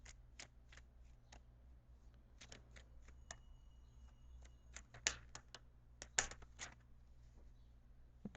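Crisp riffling and snapping of tarot cards being shuffled in quick irregular bursts, close and fairly quiet, with no talking.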